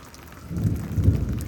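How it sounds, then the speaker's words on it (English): Thunder rumbling low and heavy over steady rain during a night lightning storm in Houston, Texas, a brief swelling roll with no voices. "there's good thunder to it."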